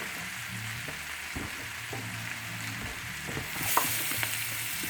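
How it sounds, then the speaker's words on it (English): Mushrooms sautéing in a pan for beef stroganoff, with a steady close sizzle and crackle punctuated by occasional stirring clinks and scrapes, rising to a brighter hiss near the end. "Letting this saute for a couple of minutes."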